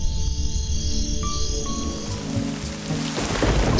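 Steady heavy rain falling hard with low rumbles of thunder, loud and continuous throughout, overlaid with sustained musical tones and no speech.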